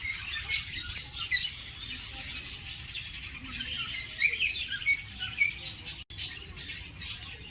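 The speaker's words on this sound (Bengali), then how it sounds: "মামাম কত রকমের পাখি দেখো" Many birds in an aviary at Taki squawk and chirp together in a busy, continuous chorus, with a steady low background rumble underneath.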